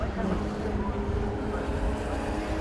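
Classic racing cars climb the hill at the Knockhill circuit in Scotland, a dense, steady engine drone holding at a constant loudness throughout with a low harmonic growl.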